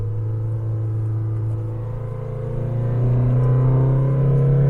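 A Mazda BT-50 2.2 double cab engine hums steadily from inside the cabin under manual gear shifts, its low drone climbing in pitch and getting louder toward the end.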